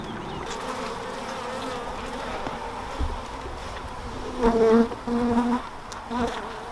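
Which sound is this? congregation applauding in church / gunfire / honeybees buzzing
honeybees buzzing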